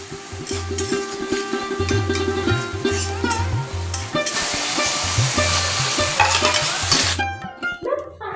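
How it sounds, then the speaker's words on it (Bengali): Sliced onion frying gently in a pan in a Bengali home kitchen, giving a steady close sizzle with repeated soft scraping stirs throughout, no talking. "পেঁয়াজটাকে হালকা করে ভেজে নেব খুব বেশি লাল লাল করে ভাজার কিন্তু প্রয়োজন নেই"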